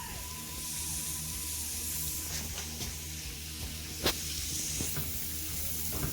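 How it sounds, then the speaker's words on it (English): Chicken pieces seasoned with salt and a dab of taco seasoning sizzle steadily as they sauté in a skillet, a continuous close frying hiss with a few clatters of stirring and one sharper pop partway through. "We're going to go ahead and let these saute up"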